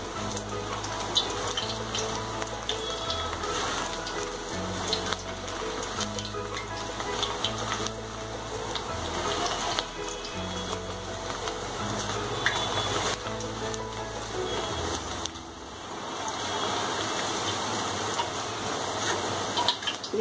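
Chana dal frying in oil in a pan, a steady sizzle with a spoon scraping and stirring in repeated strokes, close up, with background music underneath.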